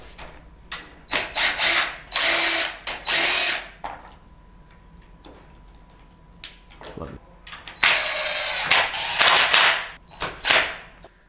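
A power tool bolting a part back onto a wrecked Honda CBR600RR motorcycle during a rebuild: several loud, whirring bursts of a few seconds each, separated by quieter gaps with talking and clicks.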